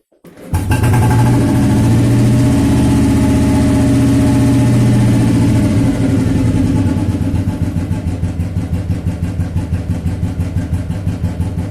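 A Royal Enfield 350/500 cast iron standard motorcycle engine starts up and settles into a loud, steady thumping idle, its rhythmic beat continuing close and alone for several seconds.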